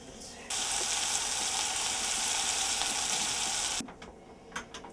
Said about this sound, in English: Render off the bacon until it's nice and crisp.